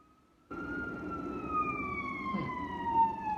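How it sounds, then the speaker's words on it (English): A siren wails in from a distance after a brief quiet, its tone sliding slowly downward, steady and moderately loud over low traffic rumble. "wow, there's sirens outside."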